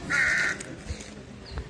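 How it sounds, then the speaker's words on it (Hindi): A crow caws loudly and close in a dense forest in a hill village on the road to Rajouri, one harsh call followed by quieter birdsong and faint rustles. "पक्षियों की आवाज़ सुनिए।"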